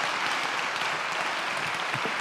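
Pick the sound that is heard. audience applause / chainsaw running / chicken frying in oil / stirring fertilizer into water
audience applause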